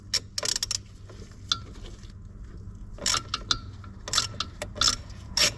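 A ratchet undoes the starter motor terminal nut on a 1.9 Vauxhall Vivaro / Renault Trafic, short bursts of crisp clicking in separate clusters with brief pauses between, close to the microphone and without talk.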